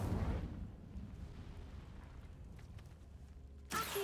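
A fire spell is cast in Hogwarts Legacy: a loud whooshing burst opens, then a low rumbling roar trails off and fades. A second sharp flare bursts in near the end.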